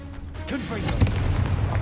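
A Confringo blasting spell in Hogwarts Legacy goes off with a sharp explosive boom and crackling burst, close and loud, partly under a voice.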